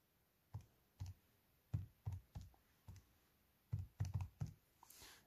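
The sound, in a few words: typing on a calculator keypad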